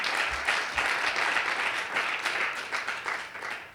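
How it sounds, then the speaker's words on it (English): At a Baltimore civic event, an audience claps for city council office staff in a full, steady round of applause that swells in small waves and eases slightly toward the close. "Please give them a round of applause"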